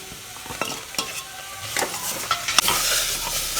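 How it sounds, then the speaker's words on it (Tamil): Pieces of country chicken on the bone hit a pan of sautéed onions, crushed aromatics and coriander, followed by brisk stirring and clinking of a spoon over a bright, steady sizzle, close and alone. "இப்போ கறியை போட்டுக்கலாம்"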